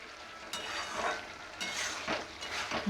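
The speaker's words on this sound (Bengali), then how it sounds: "কতক্ষণ ধরে কষছি দেখো শুধু কষছি" Potato pieces and spices stir-fried in hot oil for a soybean and potato curry, a soft continuous sizzle broken by repeated scraping strokes of a spatula against the pan.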